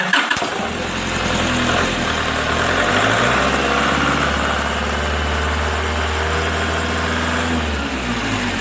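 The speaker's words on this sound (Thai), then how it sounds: "เร่งไม่ได้ครับนะ ครับเร่งแล้วมันก็จะดับ" A Nissan Frontier diesel engine with a fault that makes it stall when revved runs at a steady, rough idle close by. It rises briefly early on and then settles into a continuous low rumble.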